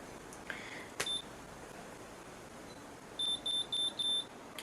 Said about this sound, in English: And then when you hear that beep,